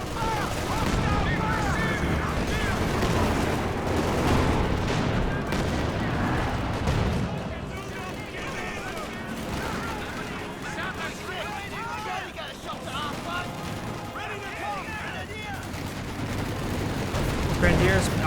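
Gunfire and blasts in a Company of Heroes 2 battle: dense, crackling volleys and booms roll continuously under shouted unit voices, loudest early and then easing slightly.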